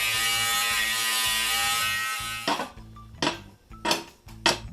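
A welding machine buzzes loudly and steadily while welding metal, then breaks into short crackling bursts of arcing separated by quieter gaps.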